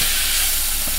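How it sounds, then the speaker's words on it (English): Chicken egg roll filling simmering in a pan gives a steady, close hiss and sizzle that fills the whole moment without a break, and no one speaks. "And we're just gonna let it simmer."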